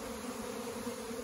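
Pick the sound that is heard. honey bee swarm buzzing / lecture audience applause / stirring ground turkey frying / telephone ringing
honey bee swarm buzzing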